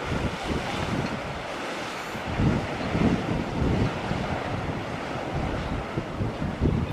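Stormy sea waves crash and roar continuously at Watchet, buffeted by gusty wind noise on the microphone, with surges swelling every second or two.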